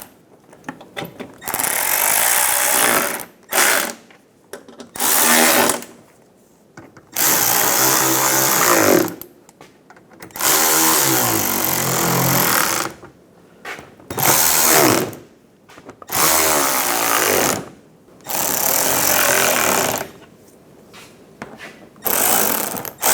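A power tool tightens the front forward control arm bolts on a 2012–2019 BMW 328i xDrive in repeated loud bursts of ratcheting whir, each lasting a few seconds and separated by brief pauses, with no talk.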